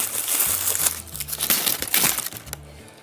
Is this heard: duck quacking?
no